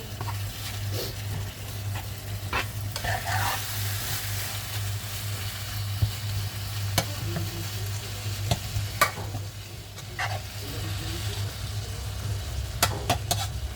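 Ground meat sizzles steadily in a pan while it is broken up and mashed, with repeated scraping and tapping of the utensil against the pan, close and continuous, with no talking.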